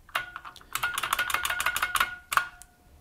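Keys strike on an IBM 6780 Quietwriter electronic typewriter keyboard in a quick, irregular burst of clicks with a tonal ring behind them, pausing briefly before one last clustered strike near the end; no one speaks.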